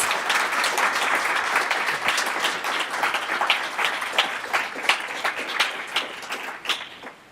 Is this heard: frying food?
no